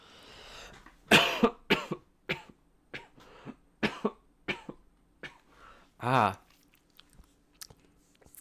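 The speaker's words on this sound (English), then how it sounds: "because all this talking is making me cough." A run of sharp, close coughs from a woman in irregular bursts, with one longer throaty rasp partway through, then quieter scattered sounds.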